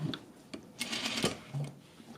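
A domestic sewing machine stitches a zipper into a garment in short separate bursts of whirring needle motion, with small mechanical clicks between runs, close by and fairly quiet.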